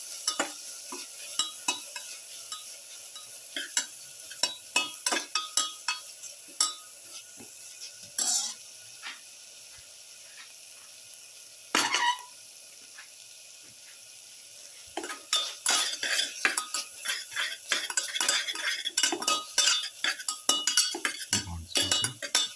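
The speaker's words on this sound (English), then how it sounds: "Keep on sauteing." Chicken with pepper, ginger and garlic is sautéed in a pan, with a metal utensil scraping and stirring in irregular bursts over a soft sizzle, the clatter growing busier toward the end.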